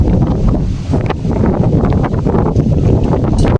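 Strong wind buffeting the microphone outdoors, a loud continuous rumbling roar with gusty surges throughout and no voices.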